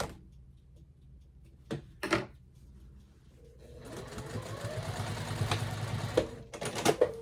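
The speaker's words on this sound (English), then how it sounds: "almost done with top stitching" A sewing machine runs a line of top stitching on a summer shirt, a fast mechanical whirring burst in the second half after a quiet stretch broken by a few sharp clicks and taps.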